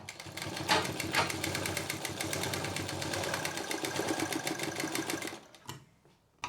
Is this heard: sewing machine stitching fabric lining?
yes